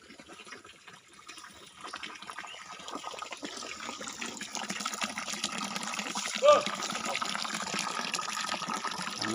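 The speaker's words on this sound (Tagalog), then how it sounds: "Doon nanggagaling ang tubig sa may ilalim ng malaking bato." Cold spring water flowing out from beneath a large rock at Tinugdan, a steady broadband rush and gurgle that holds constant throughout with a brief splash near the end.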